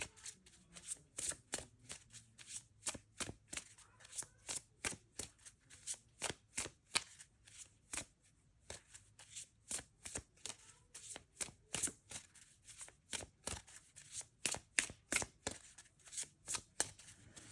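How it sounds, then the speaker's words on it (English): A deck of tarot-style reading cards is shuffled over and over, crisp riffling bursts repeating in quick rhythmic succession, close and clear, with no talking. "Sometimes when this deck wants to shuffle for a really long time"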